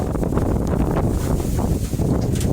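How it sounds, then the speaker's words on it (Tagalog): Strong, gusty wind roars across an open rice field ahead of a typhoon, a steady close buffeting rush with rustling, loud and continuous with no voices. "ang lakas ng hangin"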